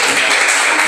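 A church congregation claps together at a worship gathering, a bright, dense patter of applause that holds steady and loud for a brief moment.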